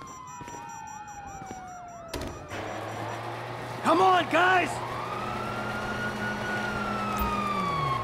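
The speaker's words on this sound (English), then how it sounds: "you hear that? Sirens!" Police sirens wail and sweep in rising and falling tones in Grand Theft Auto V, joined by a sharp yelp burst, with someone shouting briefly over them.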